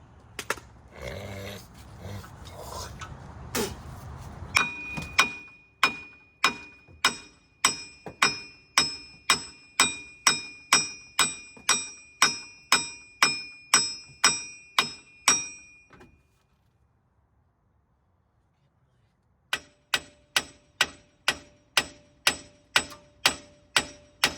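A socket is hammered over the wheel bearing nut on a Ford F-150: about two dozen loud, evenly paced metallic strikes ring out close by, then a short silent pause, then another steady run of blows.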